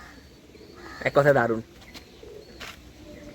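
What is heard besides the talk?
pigeons cooing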